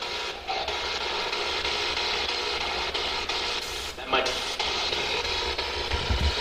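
Steady hissing radio static from a ghost hunting scanner device during a paranormal investigation, with faint sweeping blips running beneath and a brief swell of noise midway.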